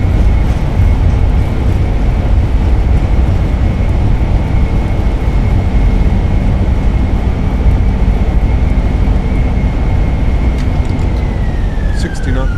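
Steady roar of Airbus A320 engines with thrust reversers deployed on landing at London Stansted in Microsoft Flight Simulator, a loud continuous broadband rush with a sustained whine that falls away near the end.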